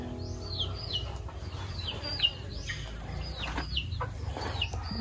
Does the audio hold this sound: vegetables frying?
no